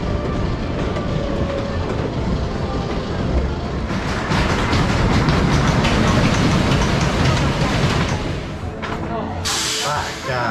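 Megaphobia roller coaster train running at Oakwood theme park: a continuous loud rumble and rattle of the cars on the track throughout, swelling midway, with a brief hissing burst near the end.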